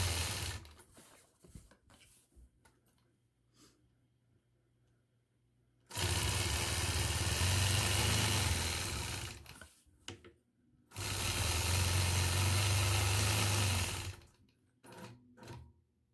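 Sewing machine stitching a coil quilt block with rulers, loud steady whirring runs of about four and three seconds, between them quieter clicks and handling noises at close range.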